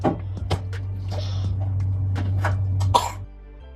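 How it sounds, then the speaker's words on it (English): Several short, sharp coughs from a congested baby come in an irregular series, close by, over a steady low hum. "This baby has been coughing since birth."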